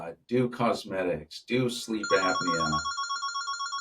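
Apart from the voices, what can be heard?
telephone ringing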